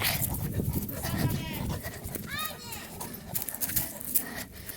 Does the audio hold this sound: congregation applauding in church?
no